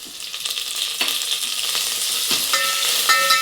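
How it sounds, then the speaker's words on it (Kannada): Crushed garlic and green chillies with curry leaves sizzle steadily in hot oil in a pan for thogaribele rasam, with a dense continuous crackle and a few sharp stirring scrapes, loud and close. "ಬೆಳ್ಳುಳ್ಳಿ ಮೆಣಸಿನ್ಕಾಯಿ ಎಲ್ಲ ಚೆನ್ ನಾಗಿ ಫ್ರೈ ಮಾಡಿದ್ದೀನಿ"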